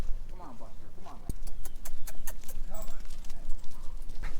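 Donkeys on halters walking in a field, a run of quick light hoof clops close by, heard under a person talking.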